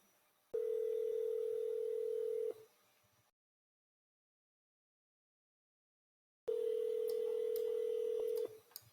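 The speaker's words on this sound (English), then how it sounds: "And it's ringing here on my phone." A phone rings back after a test call placed through FreeSWITCH telephony software: two steady single-tone ring bursts of about two seconds each, separated by several seconds of silence, clear and alone.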